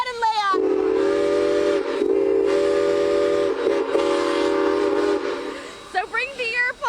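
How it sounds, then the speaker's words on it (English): A historic steam locomotive sounds a loud, sustained chime whistle in several long blasts with short breaks, nearby and dominating, followed by a few shorter toots. "we're gonna hear that whistle blowing one more time."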